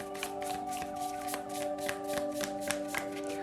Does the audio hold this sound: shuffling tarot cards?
yes